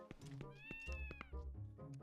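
A cat meows in The Legend of Zelda: Twilight Princess HD, a few drawn-out in-game mews over a soft background hum, with a person speaking at the same time.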